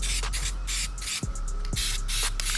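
Spray paint applied to a car rim from an Infiniti G37, a series of close, loud aerosol hisses in short bursts separated by brief gaps, with faint knocks between passes.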